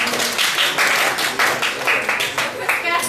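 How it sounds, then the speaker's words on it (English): An audience claps at a graduate careers workshop: a bright burst of applause, fairly loud and close, mixed with a voice talking over it. "So round of applause."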